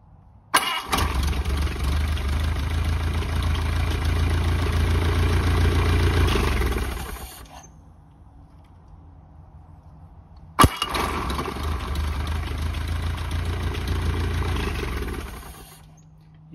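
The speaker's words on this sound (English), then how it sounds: "Now we're going to start the engine up." A Ford Model A engine is started twice through its Bendix starter drive: loud, close mechanical churning runs for several seconds, cuts to near silence, then kicks in again with a sharp onset before fading.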